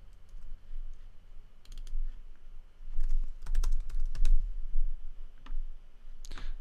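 Close computer keyboard typing while adding text during video editing: uneven clusters of quick key clicks and taps, some louder clacks mid-way, over a low steady room hum.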